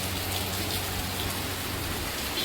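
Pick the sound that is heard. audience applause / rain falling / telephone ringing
rain falling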